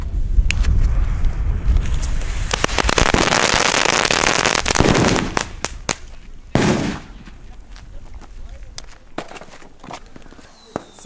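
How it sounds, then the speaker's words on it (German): Small firecracker chains from a Weco Lidl firework assortment crackling in a rapid, dense burst of pops that thins into scattered sharp bangs, loud and close outdoors. "Es gibt hier noch diese Mini-Knaller, Knallketten, Super Böller 2 und China Böller D. Wir fangen jetzt an mit diesen kleinen Ketten."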